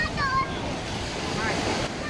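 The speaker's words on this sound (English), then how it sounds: "This is the sea in Romania" Sea waves wash in at Belona Beach in Eforie, Romania, a broad steady surf rush with breeze noise and a brief voice near the start.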